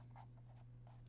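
Pen writing on paper while working a traditional multiplication algorithm, faint soft scratchy strokes in quick short bursts over a steady low hum.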